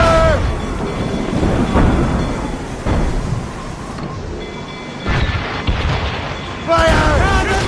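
Ship cannons in the video game Assassin's Creed Rogue fire heavy, rumbling booms several times in a loud naval battle, mixed with shouting crew voices and a roaring wind and sea wash.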